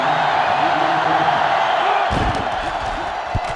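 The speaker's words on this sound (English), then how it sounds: "And this crowd is going absolutely crazy." Stadium crowd roar in NCAA Football 2005 during a Clemson Tigers versus Florida Gators game, a steady loud wash of cheering that swells and carries on, with thuds and bumps breaking in midway.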